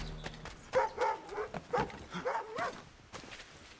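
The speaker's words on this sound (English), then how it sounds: "Hi, dog." A dog in the video game Assassin's Creed III barks and yips several times in quick bursts, fairly close, with a digital, game-like quality and light footsteps underneath.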